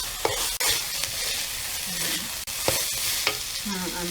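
Pork filling for egg rolls stir-fried in a hot pan, with a steady loud sizzle and scraping spatula strokes recurring every second or so, close and without talk.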